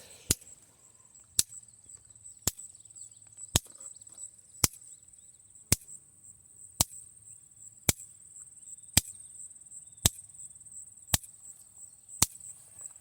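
A shorted electric fence on a farm, grounding out against a fence post, ticks with sharp, evenly spaced clicks about once a second, a dozen in all, over a quiet outdoor background.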